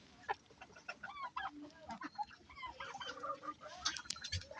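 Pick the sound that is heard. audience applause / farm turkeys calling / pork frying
farm turkeys calling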